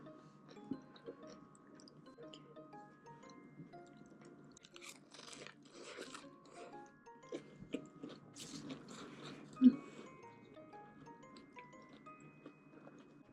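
Close, soft chewing and biting into tender braised chicken during a holiday home meal, with irregular moist crunches and smacks and one sharper bite near the end, no talking over it.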